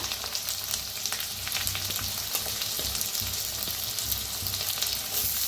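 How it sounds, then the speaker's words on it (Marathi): Chopped onion hits a hot pan of toasting spices for safflower greens bhaji and crackles in a continuous, close, even sizzle that carries on without a break or any talking. "आता हलकसं भाजत आले, त्याच्यातच टाकूया कांदा।"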